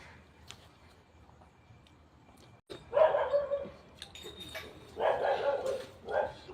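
A dog barks and howls nearby in several loud bursts after a quiet stretch, with whimpering yips between the longer calls.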